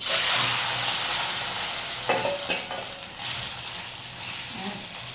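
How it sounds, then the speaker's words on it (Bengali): Prawns frying in a hot pan give a steady, close sizzle that swells at the start, with a few short clinks and spatula scrapes partway through. No one speaks. "চিংড়ি মাছটা বেশি সময় ভাজবো না, কারণ চিংড়ি মাছটা বেশি সময় ভাজলে শক্ত হয়ে যাবে"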